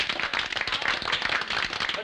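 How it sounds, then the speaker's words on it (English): An audience in a studio bursts into dense, even clapping, a loud continuous patter of many hands throughout. "Round of applause, please."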